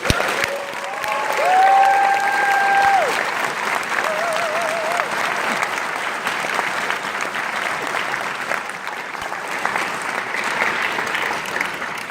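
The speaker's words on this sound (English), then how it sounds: "please, a round of applause for my drill sergeants" Audience applause at an Army basic training graduation, honoring the drill sergeants: steady, dense clapping from a large crowd that swells early and holds for about twelve seconds, with a few whistle-like cheers near the start.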